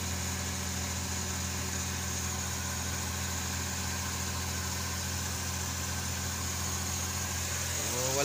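A Suzuki DA63T multicab with a hard-start fault that stalls on the road idles steadily, a low, even engine hum close by that keeps running without voices.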